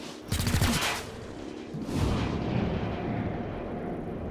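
Heavy weapon fire in XCOM: Chimera Squad, a loud close blast followed by a second booming discharge with rumbling, explosive decay that fades slowly.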